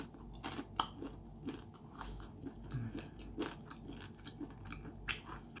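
Close, repeated crunchy bites into spicy fried chicken cartilage coated in crispy batter, the sharp crunches coming in an irregular chewing rhythm with no talking.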